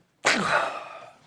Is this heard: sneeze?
yes